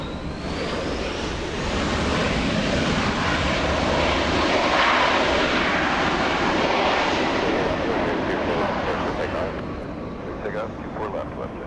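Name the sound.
jet airliner taxiing on the runway at Los Angeles airport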